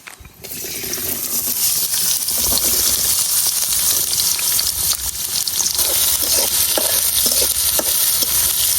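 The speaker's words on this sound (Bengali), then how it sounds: "এখন তেলের মধ্যে যে পেঁয়াজ আর রসুন গুলা কুচি কুচি করে কাটা রাখা হয়েছে এই পেঁয়াজ আর রসুন গুলা দিয়ে দেন।" Chopped onion and garlic fry in hot oil in a pan with a loud, steady sizzle that starts abruptly and holds throughout, along with occasional stirring scrapes.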